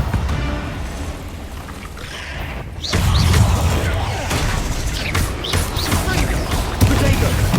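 Confringo fire spell blast in Hogwarts Legacy, a heavy fiery burst landing midway through a busy, crackling combat soundscape with rumbling low end and scattered impacts.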